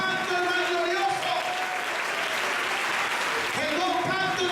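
A church congregation claps together during a Holy Communion service, sustained dense applause filling the room while a voice speaks over it at the start and end.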